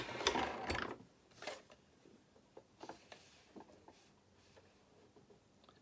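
A sewing machine stitching fabric for a stuffed highland cow's head, starting with a loud whirring run, then softer intermittent ticking and mechanical clicks at close range.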